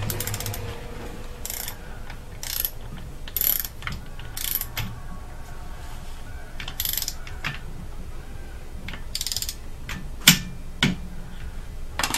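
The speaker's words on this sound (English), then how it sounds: "Pass number five is retorque in sequence to 31 foot-pounds all bolts, starting with A." A torque wrench ratchets on the head bolts of a Subaru Outback engine being reassembled after a broken timing belt. Clicking pawl bursts repeat in short sets between quieter pauses, with one sharp metallic clank near the end.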